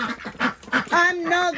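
Ducks and geese on a farm in the rain give a few loud, close quacks and honks in quick succession, harsh nasal calls bunched near the end.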